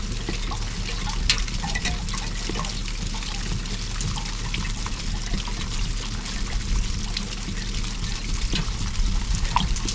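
Water and sediment drain out of a water heater in a steady, close trickling pour with gritty splashes throughout, and no one talks.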